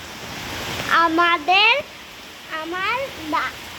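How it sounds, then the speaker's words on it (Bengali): Rain falling among the trees at a grandfather's home on a village homestead: a soft, steady hiss runs throughout, with a person talking briefly over it in two short bursts. "আমরা দেখাচ্ছি বৃষ্টি হচ্ছে"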